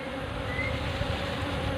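Honey bees hum continuously around a wooden hive box, a close, even buzz holding steady throughout with no voices.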